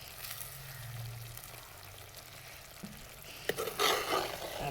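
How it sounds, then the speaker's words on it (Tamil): Squid roast frying in a pan, village style, with curry leaves, sizzles quietly under a low hum, then a couple of sharper stirring scrapes and a louder burst of sizzle near the end. "அப்படியே கிண்டி விட்டு"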